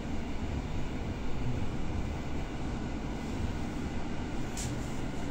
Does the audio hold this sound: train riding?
yes